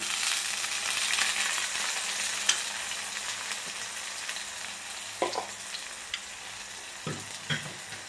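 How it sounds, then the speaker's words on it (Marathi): Onion and tomato frying in a pan while poha is being made, giving a steady close sizzle with a few faint utensil knocks and no talking. "तर कांदा टोमॅटो मऊ झालेला आहे बघा, चांगला भाजलेला आहे."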